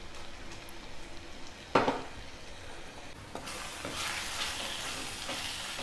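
Frozen, partly boiled green peas tip into a pan of nearly cooked frying cauliflower for a Kozhikode vegetable biryani. A short clatter is followed by a soft, even sizzle and stirring; the scene is fairly quiet with no voices.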